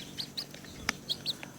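Baby chicks give high, thin cheeps, a handful of separate bright peeps spaced across a moment, with a soft tap in the middle and no voices.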